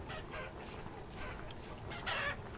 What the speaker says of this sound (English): We certainly must have about 30 chickens.